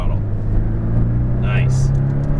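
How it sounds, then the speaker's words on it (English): A Porsche Cayman GTS flat-six pulls at full throttle out of a corner on a Los Angeles track, a steady close engine drone with a rising tone, and a voice speaks over it. "unwind, squeeze the throttle, full throttle."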